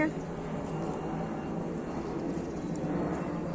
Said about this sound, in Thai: มองไม่เห็นเครื่องบินเลยเครื่องบินอยู่นู่น